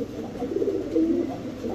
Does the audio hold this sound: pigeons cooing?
yes